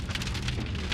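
Steady rain pattering densely on surfaces outdoors, a loud continuous hiss of drops with no gaps and no voices.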